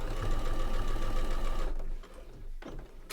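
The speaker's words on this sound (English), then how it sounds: "Let's sew that one." A sewing machine stitches an apron in a steady fast whirring run for a little under two seconds, then stops, leaving quieter handling noises close by.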